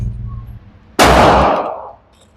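One sharp, loud shot from a Glock 19 pistol fitted with a Radian RamJet, fired at a shooting range. A quiet lead-in gives way to the crack, which trails off in a roughly one-second echo.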